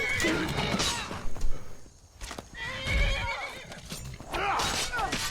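Horse in the video game Skyrim fighting, neighing loudly at the start and again near the end, with hooves clopping and impact sounds in between, close and prominent.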